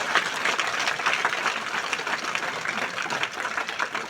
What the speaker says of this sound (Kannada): ಎಲ್ಲ ಸೇವಾ ಮಾಡೋರಿಗೆ ಜೋರಾಗಿ ಒಮ್ಮೆ ಎರಡು ಕೈ ಮೇಲೆ ಎತ್ತಿ ಚಪ್ಪಾಳೆ ತಟ್ತಾರೆ